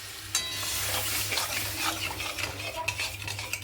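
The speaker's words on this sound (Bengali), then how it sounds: "এবারে আমি মটরটা ছেড়ে দিলাম, সেদ্ধ করে রেখেছিলাম।" Boiled peas go into a pan of frying spices and turmeric and are stirred for vegetarian ghugni, giving a steady close sizzle with repeated scraping of a utensil against the pan and a few sharp metal clinks.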